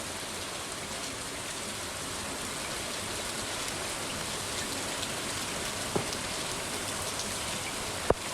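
Rain falling on a rainy day in the farming video game Stardew Valley, a steady soft hiss of raindrops with two faint ticks near the end.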